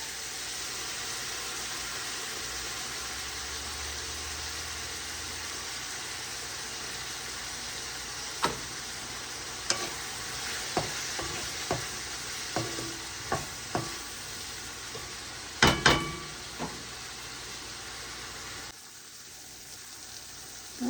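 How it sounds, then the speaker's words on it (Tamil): Onions sauté in a pan with a steady, continuous sizzle, broken by a series of sharp clinks and scrapes from a utensil stirring against the pan, all heard up close. "வெங்காயம் வதங்கட்டும்."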